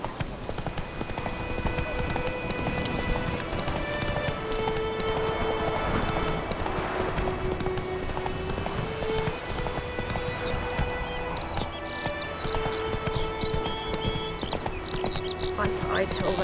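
A horse in The Witcher 3 gallops with a constant hoofbeat rhythm and neighs now and then, under a dense mix of music and game sounds, with voices speaking over parts of it.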